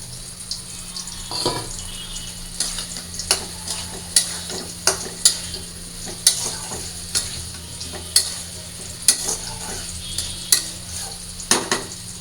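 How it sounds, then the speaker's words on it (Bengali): Potatoes and soybeans tossed with spices in a pan, a steady sizzle broken by a dozen sharp scrapes and clacks of the spatula at uneven intervals, close and fairly loud with no talking. "একটু কষাই নিই"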